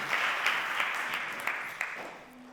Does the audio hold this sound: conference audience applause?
yes